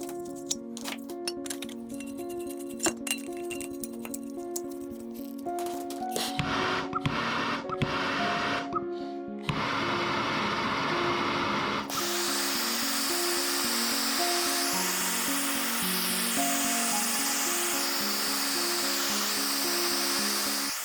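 Propane torch blasting onto fire cement in a log cabin heat treatment area, ending in a steady loud roaring hiss. Before it come clicks, handling noises and a tonal hum, with no talk.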